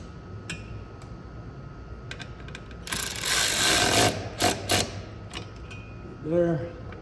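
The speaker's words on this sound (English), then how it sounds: "we come through with our socket and wrench again, just to make sure that this thing is nice and tight" Socket wrench tightening splash guard bolts on a 2024 Ford Ranger Raptor, with rapid ratcheting clicks under a steady background hum, close by, and a brief louder scraping burst midway.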